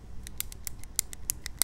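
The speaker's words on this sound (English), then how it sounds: "That's the sound of a pin clicking." A quick run of about a dozen small, bright metallic clicks in an uneven rhythm, close and fairly faint over a low hum, from a grenade pin in a multiplayer shooter video game.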